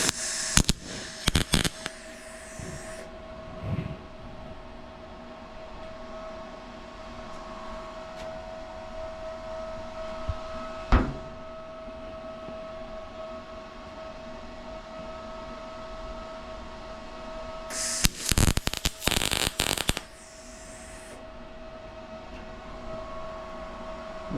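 MIG stitch welding on a Chevelle fender rust repair patch panel with a copper heat sink behind, heard as a few short crackling bursts at the start and a longer burst later, separated by quiet shop hum.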